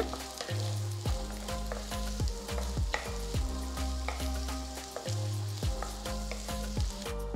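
Steady sizzling of garlic, ginger and onions frying in oil in a kadai, with repeated clinks and scrapes of stirring over a constant low hum.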